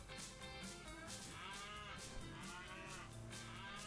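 Cows mooing in the Tasty Planet Final Bite video game, layered drawn-out moos that sound continuously and steadily, fairly loud and with no talk over them.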